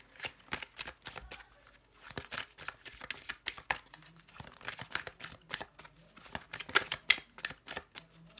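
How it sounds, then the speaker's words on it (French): Oracle cards from a messenger oracle deck are shuffled and drawn by hand, producing a dense run of close, crisp riffling and flicking bursts in irregular clusters, with no speech. "je vais déjà tirer une carte de mon oracle du messager pour voir"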